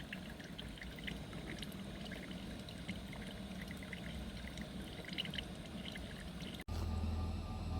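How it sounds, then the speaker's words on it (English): A honey extraction machine whirs and rumbles steadily, with a watery, churning texture throughout and a brief cutoff near the end. "So you can hear the honey machine in the background."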